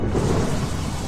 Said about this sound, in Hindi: झोपड़ी के बाहर सन्नाटा है, सिर्फ बारिश की आवाज आ रही है।